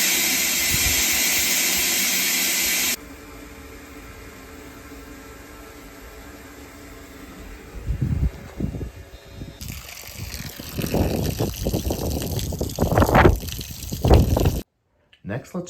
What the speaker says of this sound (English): spray your hose into your bilge